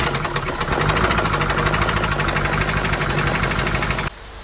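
A damaged truck engine runs rough with a steady, heavy knocking pulse, loud and close for about four seconds before cutting off abruptly.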